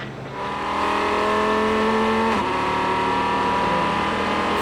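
A sports racing car roars past on the Sebring circuit during an American Le Mans Series race, its engine note rising as it approaches and then sweeping away with a sharp pitch drop, loud and steady with no talk.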